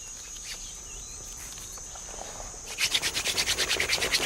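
A wooden fire drill is spun and rubbed against a dead-branch hearth to light a fire at a camp in the African Rift, starting as faint scraping before a fast, rhythmic rasping begins and settles into steady strokes.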